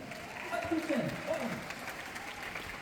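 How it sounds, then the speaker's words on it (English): An audience claps at a book festival event in London's Barbican, a fairly faint patter of applause mixed with talking voices. "What is your round of applause there?"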